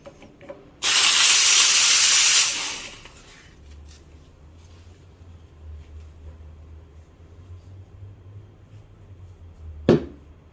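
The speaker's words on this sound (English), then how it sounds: "I always clean and I do a purging again." The steam wand of a Lelit Mara X espresso machine purges in a loud burst of hissing steam for about two seconds, then fades into a low hum, ending with a sharp clink.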